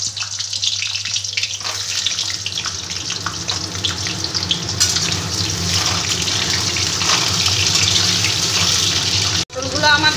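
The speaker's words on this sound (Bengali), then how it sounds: "এবার আমি পটলগুলোকে একটু হালকা করে ভেজে নেব।" Pointed gourd (potol) pieces frying lightly in hot oil in a pan, a steady close hiss and sizzle that runs continuously with a low hum underneath.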